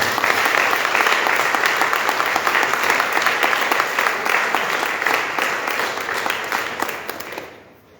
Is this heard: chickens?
no